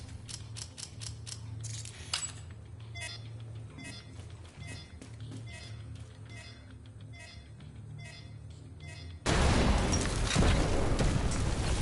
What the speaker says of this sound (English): The explosion should cause a cave-in that'll put you just inside the wall of the base.